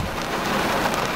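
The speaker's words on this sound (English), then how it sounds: "It's raining so hard." Heavy rain pours down in a dense, steady roar of drops hitting surfaces, loud and continuous, with no voices.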